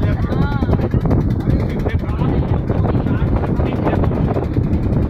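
A river launch turns on rough water in the Sundarbans, with a low, rumbling engine drone and wind buffeting the microphone while someone speaks over it.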